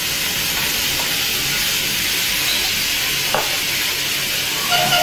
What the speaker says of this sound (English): naked flame with the gas and ignite it